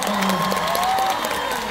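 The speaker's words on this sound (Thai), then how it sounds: "ขอเสียงปรบมือให้สตาร์ด้วยครับ" An audience in a hall applauds and cheers for Star at a live talk event, a dense, loud wash of clapping with excited voices rising over it.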